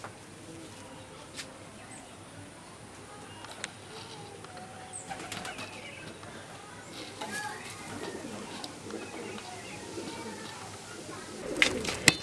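Soft, low pigeon coos come and go over a quiet background, with occasional rustles and flutters and a louder burst near the end.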